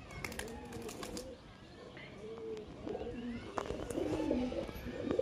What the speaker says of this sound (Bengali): এই হচ্ছে নর কবুতর, আর মাদিটা এই যে ছেড়ে দিলাম।